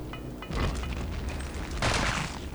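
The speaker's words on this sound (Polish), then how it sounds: "Eksplozja była." A grenade goes off in the video game Return to Castle Wolfenstein, giving loud, rumbling booms with noisy bursts of debris over a constant dense game soundscape.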